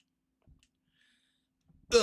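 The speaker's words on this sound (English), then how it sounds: "Excuse me, hiccups." A single faint hiccup comes from a person in a quiet room after near silence, followed by the start of speech at the end.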